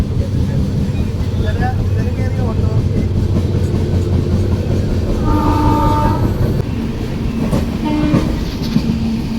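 A train rumbles past with steady rattling and clacking, two short horn blasts sounding near the end, while voices murmur in the background near Coimbatore.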